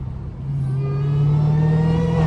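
A Dodge Hellcat's engine revs while on the move, a deep rumble climbing steadily in pitch and growing louder, with no voices.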